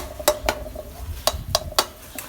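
A utensil scrapes and clinks against an old pan while shrimp paste is stir-fried over low heat, producing sharp metallic taps in an irregular rhythm over faint background noise.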